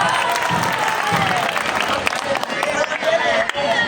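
Sustained applause and clapping from a school audience, dense and steady throughout with crowd murmur and voices mixed in underneath.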